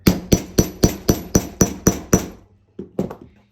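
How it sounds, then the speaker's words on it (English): A hammer sets a metal jeans rivet with nine quick, evenly spaced sharp taps close by, followed after a short pause by two more strikes, no speech. "hit that like that, and it's perfectly set"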